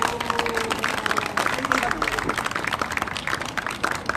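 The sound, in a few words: audience applause at candlelight rally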